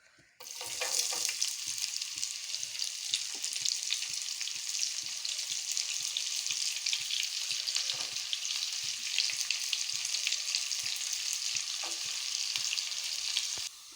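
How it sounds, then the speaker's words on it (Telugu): Onions fry in a pan for chicken keema rice: a loud, dense sizzle starts abruptly and crackles evenly, up close and uninterrupted, with a few stirs mixed in before it cuts off near the end. "ఆనియన్స్ వేసుకుందాం"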